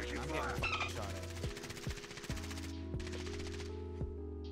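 Video game gunfire crackles in short bursts over a steady droning background with tonal hum, several sharp shots landing at irregular moments, fairly quiet overall.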